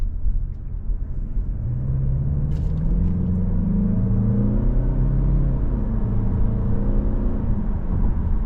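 A 2025 Mazda CX-30 Premium Plus SUV accelerates down the road with a steady interior engine rumble and tyre whir, rising tones sweeping upward as it gains speed, with no talking.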